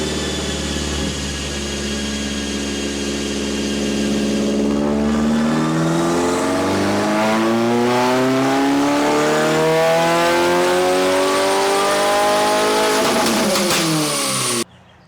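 A 2022 Subaru WRX engine rumbles loudly nearby, revving up with rising pitch and a throaty burble, then cutting off abruptly.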